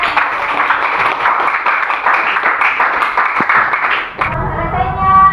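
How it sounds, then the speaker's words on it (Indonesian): A classroom of students applauds a classmate during an inflation lesson, with dense, steady clapping for about four seconds before it breaks off into quieter room sound. "Beri aplaus dulu buat temannya."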